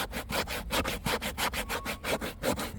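Wet foam insulation inside a camper is rubbed by hand in a quick, even back-and-forth rhythm, a close, soft scraping of about a dozen strokes with no voices.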